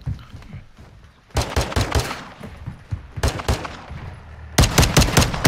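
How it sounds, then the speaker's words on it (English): Bursts of video game gunfire and rapid machine-gun fire in a squad-based shooter, loud and close, coming in three dense volleys separated by brief quieter gaps. "Taking effective fire!"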